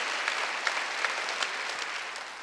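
A congregation at a Korean church's Wednesday worship service breaks into applause, a dense, continuous wash of many hands clapping, even and sustained throughout.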